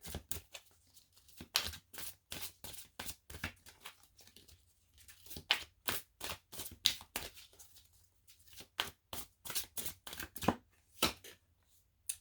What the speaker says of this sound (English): I'm going to pull these for that. The Archangel Oracle cards.